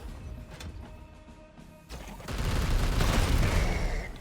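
Gunfire and an explosion in the turn-based game Chaos Gate Daemonhunters: quieter mechanical clicks and thuds at first, then a loud burst of booming blasts and rattling shots that fills the last two seconds.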